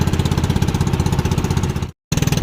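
A motorboat engine runs steadily along a shoreline, a loud, close, rapid chugging throb that cuts out briefly near the end and then resumes.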